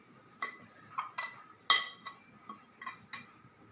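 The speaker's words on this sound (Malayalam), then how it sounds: "ഇനി നന്നായിട്ടൊന്ന് മിക്സ് ചെയ്യാം." A spoon stirs chopped tomato, chili and turkey berries in a dish, producing a series of light, close clinks and scrapes at an uneven rhythm, one louder knock in the middle.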